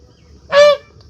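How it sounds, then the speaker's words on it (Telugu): A single loud honk from a domestic duck, close by and lasting under half a second, with nothing else around it. "బాతు చూడు ఎట్ట వస్తుందో"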